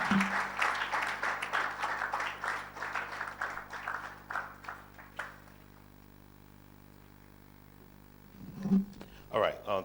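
An audience applauds after a talk on bridging the digital divide, a steady burst of clapping that fades out midway, then a voice speaks near the end.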